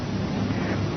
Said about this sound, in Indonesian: Banyak angin.